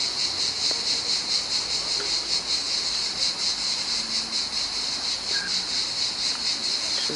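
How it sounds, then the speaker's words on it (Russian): Cicadas drone loudly and steadily in a hotel courtyard in Limassol, Cyprus, a dense high buzzing that pulses slightly and runs unbroken throughout, with no talk over it. "Цикады орут."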